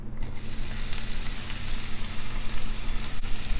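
Chopped onions dropped into a hot pan of oil for Mexican-style pork cracklins, sizzling and crackling loudly and continuously with no voices.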